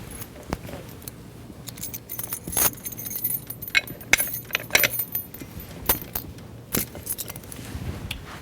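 A bike lock is fastened through the frame and both wheels, making a close, busy jangle of metal links clattering and clinking in irregular bursts, with faint traffic in the background.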